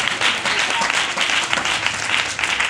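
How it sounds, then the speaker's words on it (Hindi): A church congregation applauds during a sermon with loud, sustained, dense clapping from many hands, steady throughout with slight rises and falls. "यीशु मसीह के लिए जोरदार ताली।"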